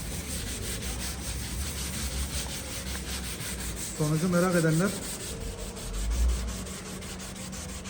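A steady, raspy air sander noise runs throughout as it sands a car headlight, with a voice talking briefly over it midway.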